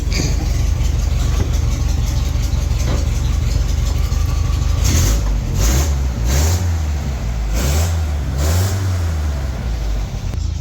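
An old MGB car engine runs loud and close at a steady idle, then is revved several times in quick succession, each blip rising and falling before settling back to idle.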